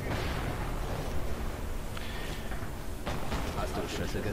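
Gunfire in the sniper shooter Sniper Elite V2, with a couple of sharp bursts standing out over a dense, continuous layer of game noise and rumble.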